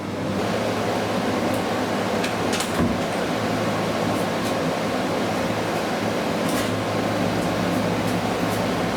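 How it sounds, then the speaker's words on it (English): A compressor in an air conditioner unit kicks on and runs, giving a loud, steady broadband whirring hum with a low drone underneath and occasional faint clicks and knocks. "Okay, so the compressor just kicked in."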